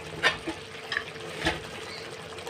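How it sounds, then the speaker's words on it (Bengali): A spoon stirs chicken gravy in a frying pan, giving a few soft scraping strokes over a low, steady simmer, close and fairly quiet with no talking. "আমি একটু নেড়ে নিচ্ছি।"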